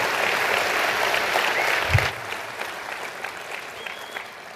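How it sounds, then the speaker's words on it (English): Audience applause at a 2013 corporate keynote, a dense wash of many hands clapping that is loud at first, then thins after a couple of seconds into lighter scattered claps. "Round of applause for Steve, folks."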